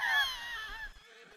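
Horse whinnying in Red Dead Redemption 2, a short, wavering high neigh that fades over about a second.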